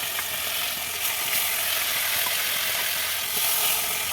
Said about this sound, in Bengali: মাছটা ভাজতে দিয়ে দিয়েছি